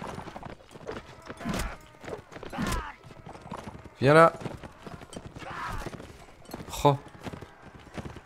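Steppe horse hooves in the video game Mount and Blade Warband, soft clip-clop steps with a couple of louder whinny-like bursts, heard under a player talking.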